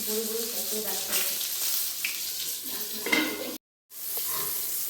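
Eggplant slices frying in hot oil for a vegetable khichdi, giving a continuous crackling sizzle with occasional stirring clinks and a brief cut to silence near the end.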